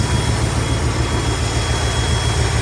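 A 1973 Ford F-250 engine idling after sitting 18 years, a loud, close, steady low rumble with an even pulsing throb throughout.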